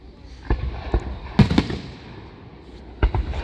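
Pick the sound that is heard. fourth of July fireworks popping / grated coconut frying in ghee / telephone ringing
fourth of July fireworks popping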